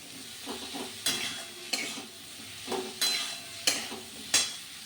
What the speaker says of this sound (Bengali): নেড়ে চেড়ে একটু খুব ভালো করে ভেজে নেব বেগুনটা আলুটার সাথে